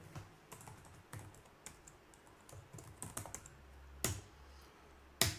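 Computer keyboard typing on a system being set up for a CentOS 8 lab: irregular bursts of key clicks with short pauses, a couple of sharper, louder keystrokes standing out near the end, close and alone with no voices.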